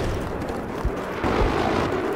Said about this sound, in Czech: Exploze.